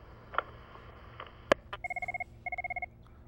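A telephone rings on a call-in radio show, two quick trilling bursts of electronic ringing after a sharp click, heard clearly over a faint hum without talk.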